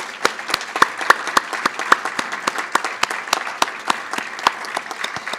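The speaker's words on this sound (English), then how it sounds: "please join me in a final round of applause for all the 2024 Gavel Award" Scattered audience applause at a 2024 Gavel Award presentation, honoring the winners: irregular sharp claps from a moderate crowd, fairly close, with no voices over it.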